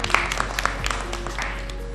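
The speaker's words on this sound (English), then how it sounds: "If you are Kenyans, clap for yourselves." Audience clapping during a speech about Kenya's power capacity, a scattered burst of claps, moderately loud and fairly close, with a faint voice in the background.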